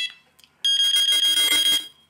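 An SF-10 electronic fishing bite alarm sounds a loud, piercing electronic tone when its button is pressed. The tone pulses rapidly for just over a second after a brief faint click.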